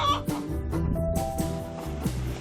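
A laying hen clucks in a run of short, repeated calls close by, the clucks coming in quick bursts with brief gaps between them.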